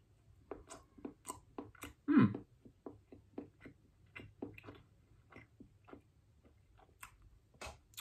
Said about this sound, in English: Has a bit of a harden to it, but gets softer as you keep chewing.